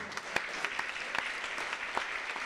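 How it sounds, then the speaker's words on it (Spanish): An audience applauds during a church sermon series talk, a dense, fairly faint patter of many hands clapping with a few sharper claps standing out. "Un aplauso."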